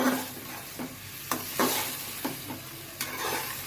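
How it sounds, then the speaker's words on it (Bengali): Pointed gourd and potato pieces are stirred in hot oil for a rohu fish curry: a soft background sizzle broken by several sharp spatula scrapes and knocks against the pan at irregular intervals. "দিয়ে দিলাম পটল এবং আলু এভাবে নেড়ে চেড়ে"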